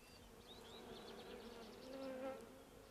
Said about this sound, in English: Bees are certainly using the hive.